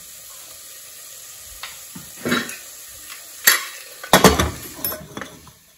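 Garlic fries in a pan for a goat-meat do pyaza: a soft background sizzle punctuated by several loud, close stirring scrapes and clanks of a utensil, clustered toward the end.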